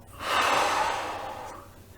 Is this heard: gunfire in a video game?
no